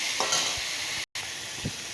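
A short burst of sizzling in a pan with soft scraping as ginger and green chili paste is stirred, briefly cut by a moment of silence.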